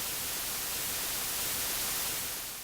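Hiss of radio static like the cosmic microwave background noise detected by Penzias and Wilson, a steady broadband wash that holds unchanged throughout without any voice.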